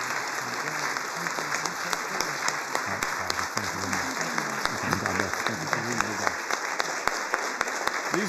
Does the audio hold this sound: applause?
yes